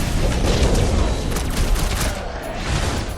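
Heavy gunfire from big guns in Marvel's Guardians of the Galaxy game, a loud crackling burst of rapid shots and booms across the full span, with faint combat voices in the mix.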